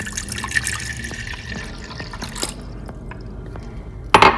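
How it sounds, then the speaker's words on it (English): Water pours steadily into a pot on a kitchen stove while cooking grits, a continuous splashing fill with small drips, close by, and ends in a brief louder clatter. "So I'm gonna go ahead and pour in my water."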